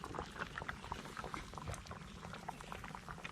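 Coconut milk goes into a simmering Caribbean chicken soup with red peas, pumpkin, scallion, thyme and scotch bonnet pepper, heard as close bubbling and liquid gurgles with soft pops throughout, no talking.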